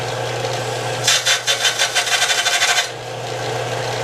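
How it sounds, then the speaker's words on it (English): Belt sander sharpening a mower blade: a steady motor hum, then nearly two seconds of rapid, rhythmic rasping bursts as the blade is pressed against the belt, close and fairly loud, before it drops back to the hum. "Now that I've got a belt sander, I'm going to try to do it with the belt sander."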